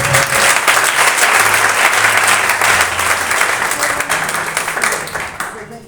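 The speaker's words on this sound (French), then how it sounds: "Si tu me comprends, acclame encore le Seigneur au nom de Jésus" A church congregation claps and cheers loudly and steadily for the Lord, the applause dense and close, fading slightly toward the end, with some voices mixed in.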